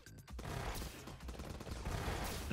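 Rapid automatic fire of a saw-bolt energy weapon in the roguelike shooter Starward Rogue, a dense, loud, continuous burst of shots lasting the whole stretch with no pauses.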